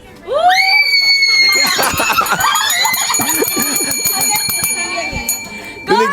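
A woman's loud, sustained high-pitched scream rings out during a live selling stream, with a crowd shouting and cheering underneath, over bright bell-like tones, then breaks off near the end.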